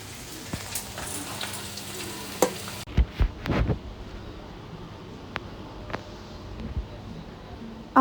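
Hands knead dough mixed with lukewarm water, giving soft, irregular squishing and pressing noises that come in short close bursts over a steady background hiss.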